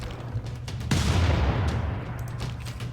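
A heavy artillery cannon boom in Civilization VI erupts about a second in, followed by a rumbling decay over a steady low background, with fainter thuds and pops around it.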